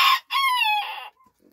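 A bantam rooster in a small backyard coop crows close by and clucks near bedtime. A short clucking burst comes first, then one long, loud crow, and a few faint clucks trail after it.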